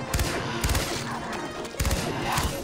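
Repeated bursts of gunfire in the video game Far Cry 3 Blood Dragon, loud and close, coming in quick clusters with short gaps between them over a dense layer of game noise.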